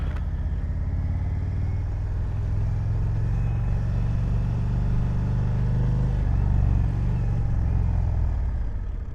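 A 2020 Indian Chieftain Darkhorse 116 motorcycle runs through Stage 2 exhausts with a loud, deep, steady engine rumble that swells slightly mid-clip and continues close up without a break.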